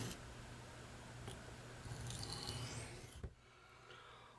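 Buck 389 knife blade rubbed on an India sharpening stone, a faint, steady rasping scrape that runs continuously and ends with a soft click.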